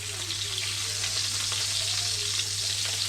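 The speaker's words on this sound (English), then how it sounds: "Now we add some butter and rosemary." Duck breast sizzles in a pan with butter and rosemary, a continuous crackling fry with fine spitting pops over a steady low hum, close and even throughout.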